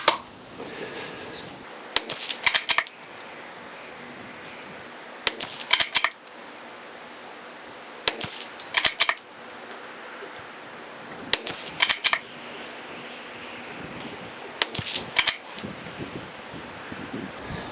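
A CZ 457 rimfire rifle fires SK Semi-Auto ammunition outdoors, five sharp, fairly loud single shots spaced a few seconds apart, some with a quick follow-up crack, over a low steady wind and rustle.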